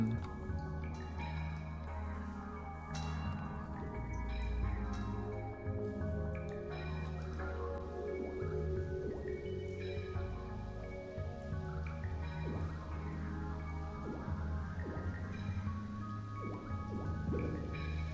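A waterfall and dripping water in the video game Hypnagogia: Boundless Dreams, with steady drips and splashes over a low rushing wash and soft game music, continuous and moderately quiet throughout, no talking.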